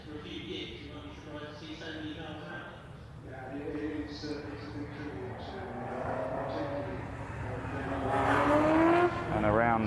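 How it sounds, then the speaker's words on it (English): BCV8 Championship race cars at the start of a 20-minute race come down the Wellington Straight, their engines a steady rising roar that swells louder toward the end, under continuous excited commentary. "The cars are just coming down the Wellington Straight."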